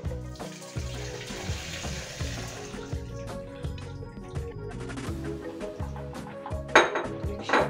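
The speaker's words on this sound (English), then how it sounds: "So what I do next is I drain this." Boiling-hot water pours out of a pot of cooked broccoli into a sink, splashing and gurgling steadily with clanks of the pot against metal, ending in a brighter clattering burst.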